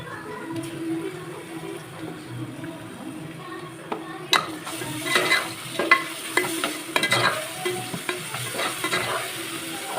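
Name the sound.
sautéing ginger garlic paste with onion for biryani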